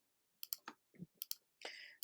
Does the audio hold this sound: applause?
no